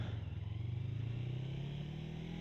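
Old 250cc motorcycle engine running with a steady, pulsing low throb that swells slightly as it revs, heard fairly close and quiet with no talking.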